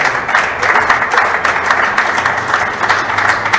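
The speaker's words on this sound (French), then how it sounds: "Nous acclamons pour le 7e preneur." An audience cheers on a participant at a book launch with continuous, dense applause, even in level and close, without speech over it.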